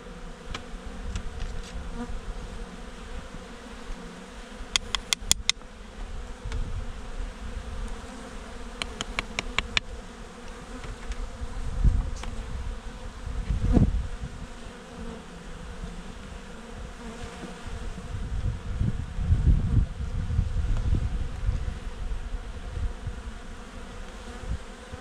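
Honey bees buzz steadily inside an opened hive during an early-spring inspection, a dense close hum that swells and fades. Individual bees sometimes fly past nearby, with faint handling knocks now and then.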